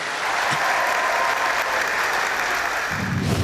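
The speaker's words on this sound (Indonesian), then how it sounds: "jadi kita berikan aplaus untuk Ibu Guru yang luar biasa ya." Sustained applause from a studio audience at an Indonesian television talk show, steady and full throughout, rising a little louder near the end with no talking over it.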